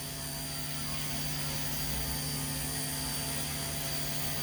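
Small Blade Nano S3 collective-pitch RC helicopter in flight indoors: a constant, loud, high whining rotor and motor drone with steady tonal hum, unbroken throughout.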